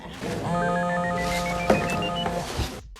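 A short run of electronic telephone tones beeps in steady, stepped pitches, close and clear, lasting a couple of seconds.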